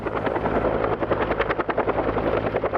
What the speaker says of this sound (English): This helicopter behind me was just 200 feet in the air